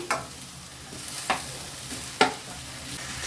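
Tomatoes tipped into a pan of frying onions for Kara chutney and stirred, three distinct spoon scrapes over a steady soft sizzle, close and fairly quiet, no talking.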